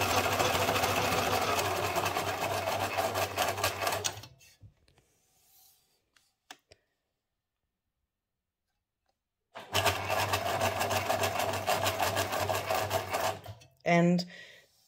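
A sewing machine stitches straight lines of a spider web design on paper ephemera, running loud and steady for about four seconds, falling silent, then starting again for another long run before a brief final burst.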